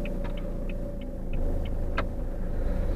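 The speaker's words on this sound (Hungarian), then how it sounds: "Elindulok, szerintem már az autó eléggé meleg." A warmed-up car sets off and drives, a steady close engine and road rumble filling the cabin, with faint ticking clicks over the top.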